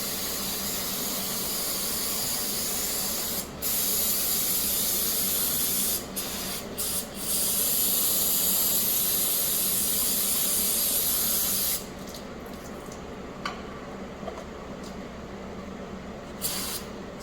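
Aerosol degreaser sprayed onto engine valve covers from a Vortec engine, a loud continuous hiss in long bursts with brief pauses, then quieter short sprays toward the end, close up with no talking.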